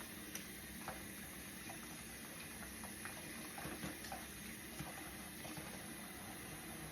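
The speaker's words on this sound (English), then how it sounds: "we're gonna rinse off the detergent" Running water rinsing detergent off cleaning tools, a steady, fairly quiet flowing wash with small splashes and clinks scattered throughout, no talking.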